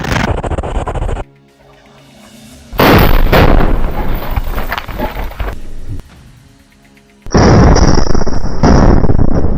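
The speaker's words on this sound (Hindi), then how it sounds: "हमास का लड़ाका रिमोट कंट्रोल से इस आईडी में ब्लास्ट कर देता है" Two loud, sudden blasts from a remote-detonated IED destroying a tank, each a sustained booming roar with debris crackle, separated by a short quiet gap.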